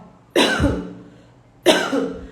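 Two sharp, close coughs, each a forceful burst followed by a short trailing rasp, separated by a second of quiet.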